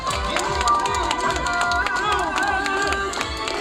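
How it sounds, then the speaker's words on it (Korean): Crowd at a Korean election campaign rally in front of a traditional market in Hanam, a dense wash of clapping and cheering with scattered sharp claps and voices mixed in throughout. "여러분 큰 박수 부탁드립니다."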